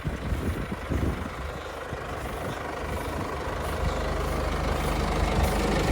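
A tractor engine idles with a steady low rumble and faint mechanical clatter, heard nearby and alone, growing slightly louder toward the end.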